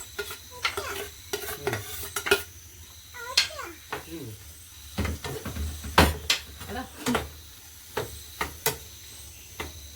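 Onions and tomatoes frying in a pan for egg bhurji and stirred with a spatula, producing repeated scraping strokes over a low sizzle, close and moderately loud. A voice speaks intermittently.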